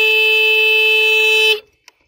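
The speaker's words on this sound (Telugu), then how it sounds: "హార్న్ కూడా చాలా లౌడ్గా మనకు వినపడుతుంది." The horn of a Pure EV ePluto 7G electric scooter sounds one steady, loud, close electronic beep for about a second and a half, then cuts off.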